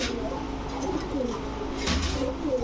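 Racing grizzle pigeons coo in low, rolling murmurs, close by and continuous, with a faint voice under them.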